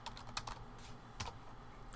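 Typing on a computer keyboard while entering invoice text, a quick irregular run of soft key clicks, close and fairly quiet, with no speech.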